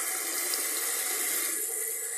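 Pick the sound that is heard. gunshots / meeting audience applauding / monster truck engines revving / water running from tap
water running from tap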